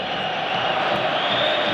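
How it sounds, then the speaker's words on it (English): Spanish home crowd at an Atletico Madrid versus Inter Milan Champions League match, a dense, continuous roar of cheering and whooping that swamps the away fans, loud and unbroken from start to finish. "Inter voices you can hear being drowned out by the Spanish crowd"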